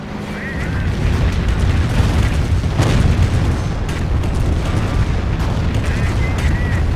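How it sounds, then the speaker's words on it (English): A blast of anti-tank gunfire destroys a Sherman tank amid the steady, dense rumble of a Company of Heroes battle; one sharp, loud boom stands out midway through. "looks like my AT gun finally found this Sherman. Managed to destroy it"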